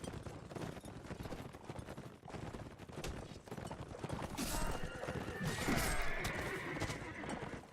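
A horse whinnies and goes down amid gunfire in a multiplayer game match, with galloping hooves, scattered shots and a louder neigh rising toward the end, mixed with game noise.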